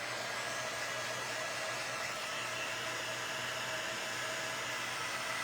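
A hair dryer blows steadily on a painted Jenga block pumpkin, a soft, even whooshing hum with no change in pitch or breaks, heard alone without talk.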